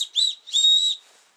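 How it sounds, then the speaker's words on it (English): A small Bear Grylls survival whistle on a fire starter lanyard is blown in two quick shrill blasts, a short chirp and then a longer piercing tone, loud and close with no talking. "a small survival whistle, which is pretty loud."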